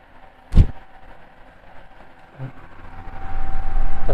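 A Kyowa KW-6900 box fan at its lowest speed: a single click, then a soft whooshing hum that slowly builds into steady airflow noise by the end.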